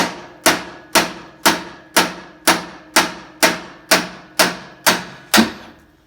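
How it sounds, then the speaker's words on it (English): Eleven heavy blows from a 3-pound hammer land at a steady one-per-half-second rhythm on metal of a Roper RT16T clone lawn tractor, each a sharp metallic crack with a short ringing decay, close and loud. "big 3-pound hammer and watch this"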